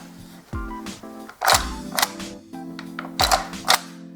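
VFC MP5 gas blowback airsoft gun's bolt being worked, a series of close, sharp metallic clacks and snaps in quick succession with brief pauses between.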